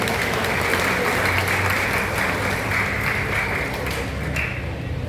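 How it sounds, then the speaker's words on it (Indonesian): Applause for schoolchildren, elementary and junior high pupils, at a prize-giving ceremony: a dense, steady wash of many hands clapping throughout, fairly loud and close, with a low murmur of the crowd underneath. "Tepuk tangan untuk anak-anak kita."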